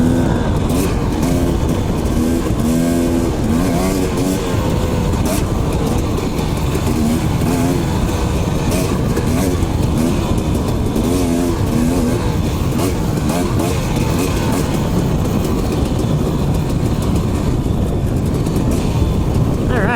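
Dirt bike engine on an Idaho mountain ride, loud and close throughout, with a continuous buzzing drone that surges and revs in waves as the rider climbs, plus wind rush.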